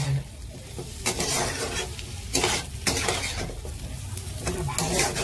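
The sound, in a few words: stirring and frying potatoes with chili powder in pan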